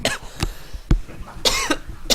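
A game commentator coughs several times in quick, uneven bursts, close to the microphone, with brief gaps of quiet in between.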